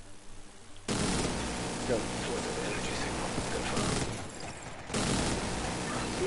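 Sustained rapid gunfire bursts erupt loudly during a raid in the video game Saint-Dog, stopping briefly and resuming; a voice calls out over the shooting.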